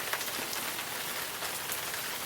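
Heavy rain pouring onto a Shanghai street, a dense continuous hiss of drops splashing on hard surfaces, loud and unbroken throughout.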